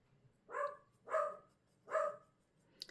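A golden retriever across the street gives three evenly spaced barks, faint and distant, in a quiet outdoor setting.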